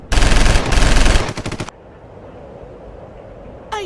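Rapid automatic gunfire in an animated cartoon scene, aimed at a small bunny: a loud, dense burst of shots for about a second and a half, then a few separate reports before the firing stops.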